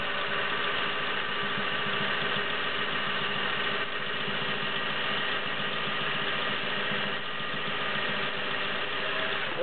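Singer Slant-O-Matic 401A sewing machine stitching a built-in checkerboard decorative pattern from its internal cam stack, a steady close mechanical whir and rapid needle chatter running continuously.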